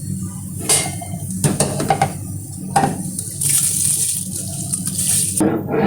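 Rice tipped into a pot of boiling salted water for chana dal pulao, giving a steady bubbling, watery rush with a few brief clinks and splashes, close and moderately loud, no talking.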